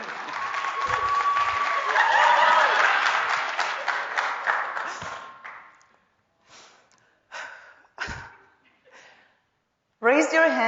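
Audience applause from a university crowd welcoming competitor number 5 at a Three Minute Thesis competition, loud and sustained for about five seconds before fading into scattered claps, with a voice starting to speak at the end.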